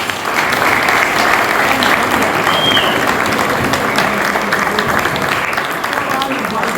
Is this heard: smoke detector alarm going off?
no